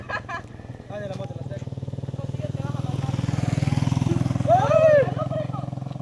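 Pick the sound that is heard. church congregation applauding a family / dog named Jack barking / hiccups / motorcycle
motorcycle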